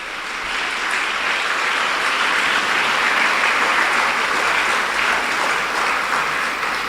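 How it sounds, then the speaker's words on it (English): Sustained applause from a conference audience welcoming speakers at a keynote event, a dense, steady roar of many hands clapping at close range without pause. "Keep clapping."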